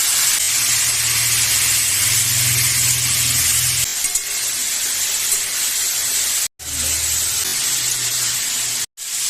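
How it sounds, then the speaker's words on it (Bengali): Mushrooms added to a pan of hot oil with fried potatoes and cumin, a loud continuous hissing sizzle with a low rumble early on, broken by two brief silent gaps, no voices. "এখন মাশরুমগুলো দিয়ে দেবো"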